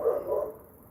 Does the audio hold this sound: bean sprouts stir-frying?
no